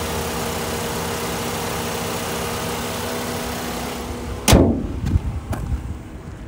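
A 2012 Mazda 3's 2.0-liter four-cylinder engine idles with a steady, even hum, then a few loud sharp knocks and thumps close by near the end.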